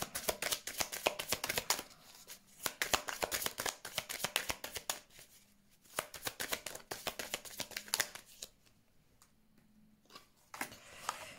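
Tarot cards are shuffled and drawn for a reading, with rapid, close riffling bursts of crisp card flutter broken by brief quiet pauses and soft slaps as cards are laid down, no speech.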